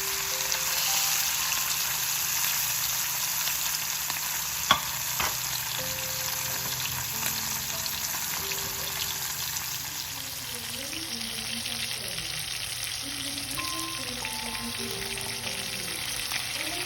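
Mackerel fish frying in hot oil over a medium flame, giving a steady, close, continuous sizzle and crackle that runs throughout with no talking.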